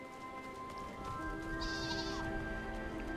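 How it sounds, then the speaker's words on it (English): A sheep bleats once with a wavering call over a quiet background drone in Final Fantasy XIV. "I heard a sheep."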